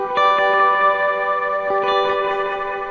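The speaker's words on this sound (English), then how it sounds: "you can hear that's the full reverb signal in there" An Earthquaker Devices Disaster Transport SR pedal at full reverb on an electric guitar, sustained chords ringing with a long washy tail, a few picked notes re-striking and blending into a dense shimmering wash.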